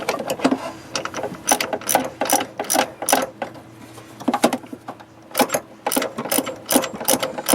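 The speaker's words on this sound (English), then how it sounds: "we're just loosening the one of the torque mount bolts here" A ratchet loosens a torque mount bolt on a 2011 Nissan Altima 2.5 SL, sounding in quick bursts of loud, close clicking with brief pauses between strokes.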